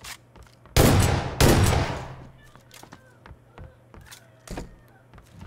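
Gunfire in the battle game PUBG: two loud, close bursts early on, each with a dense crack and a rumbling tail, followed by quieter scattered thuds and clicks in the background.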